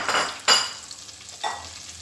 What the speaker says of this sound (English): we are going to allow the onion to caramelize, yes, in the butter